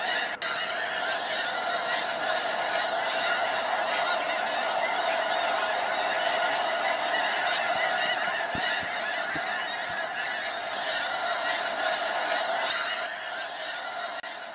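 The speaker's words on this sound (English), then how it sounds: "When he approaches the flock of waterfowl, chaos ensues." A large flock of wild geese in a California wetland honking in alarm, a dense, continuous wall of overlapping calls sustained throughout, with a few thumps partway through.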